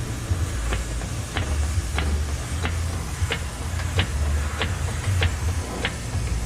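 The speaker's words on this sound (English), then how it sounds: "Just going to jack up the rear end here." A jack raises the rear end of a Toyota Tacoma in a garage, giving a steady series of sharp ratcheting clicks about every half second over a continuous low hum, with no one talking.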